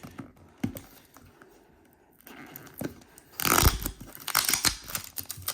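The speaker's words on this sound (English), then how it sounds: "if we can actually get this piece of tape off on the top here" Tape being peeled off the top of an Edifier G2000 gaming speaker box: a quiet tap or two first, then a loud, close ripping and scraping burst of sticky tape tearing away.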